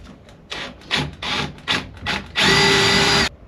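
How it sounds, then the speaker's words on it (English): Power drill boring holes with a 4mm bit while shaping a hydrofoil front wing, several short whirring bursts followed by one longer, steady, loud run close by. "So this is a 4mm drill bit. I'm going to drill them straight away."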